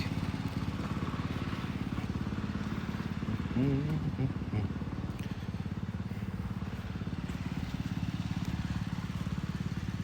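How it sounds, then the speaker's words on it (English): A Stihl BR700 backpack leaf blower runs at a steady, fairly faint engine drone that holds constant throughout, with no clear change in speed. "The Stihl BR700. If you don't have a backpack blower and you're a homeowner and you have a yard, get one."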